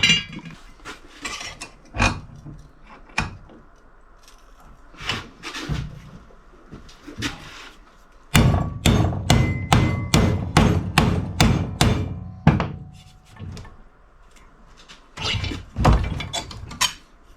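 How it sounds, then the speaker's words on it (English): Metal strip for a headlight mount on a Honda ATC 200X ATV being bent and hammered in a vise: sharp metallic strikes, scattered at first, then a rapid run of about ten close, loud blows, with no talking. "Drew a line where I need to bend over in the vise here"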